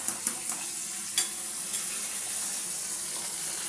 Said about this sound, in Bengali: এবারে আমি আরেকটা মাছ আমি ভেজে নিচ্ছি বন্ধুরা